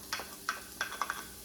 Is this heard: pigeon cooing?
no